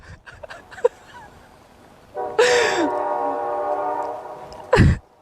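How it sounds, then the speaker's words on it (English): A train passes close by with a sustained, loud horn blast lasting a couple of seconds, set outdoors at a wildlife conservation centre with moose; a brief voice and a gasp-like sound come before and after. "We'll give the train a moment to pass."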